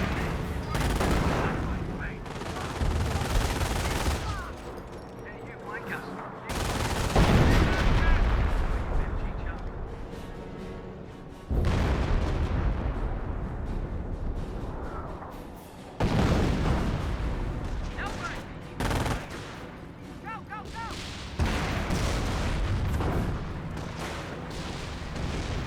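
Dense gunfire and artillery from a Company of Heroes 1 multiplayer battle, with rifle volleys, machine-gun bursts and heavy booming shell impacts piling into a loud, nearly continuous wartime din while a commentator talks over it.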